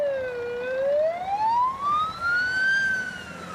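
Airport ambulance siren wailing loudly nearby, a single slow rising and falling tone sweeping up over a few seconds.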